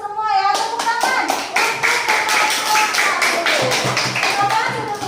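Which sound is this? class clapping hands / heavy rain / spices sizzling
class clapping hands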